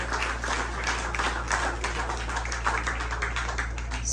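An audience at a university opening ceremony applauds in a dense, steady wash of clapping over a low hum.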